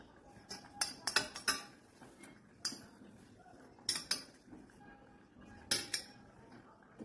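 Steel plates are handled close by, clinking and clattering in irregular bursts of sharp metallic knocks separated by quiet gaps, no talking.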